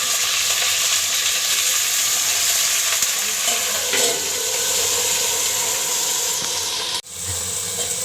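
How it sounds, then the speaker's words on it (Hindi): Potato and eggplant chunks sizzle and fry steadily in a hot pan, a dense continuous hiss that carries on loud and close before a sudden brief dip near the end. "अब इसमें आलू बैंगन डालेंगे।"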